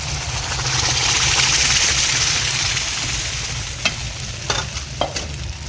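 Greens (saag) tipped into a hot pan sizzle loudly and steadily throughout, joined by a few sharp scraping clicks of stirring near the end, with no talking.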